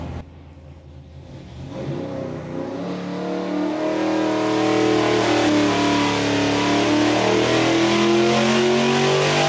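A 416 cubic inch LS3 V8 on a dyno climbs from a low rumble to a loud, sustained wide-open-throttle roar, its pitch rising steadily for several seconds with no speech over it.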